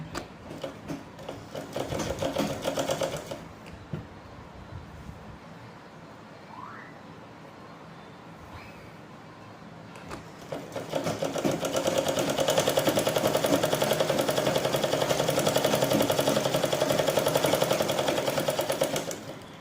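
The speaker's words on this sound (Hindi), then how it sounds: "ऐसे मैं पहले एच पे सिलाई लगा लूँगी, बिल्कुल किनारे पे सिलाई लगा लूँगी।" A sewing machine stitching along the edge of a blouse whirs in a short burst, pauses for several seconds of quiet handling, then runs again in a long, steady, loud mechanical rattle.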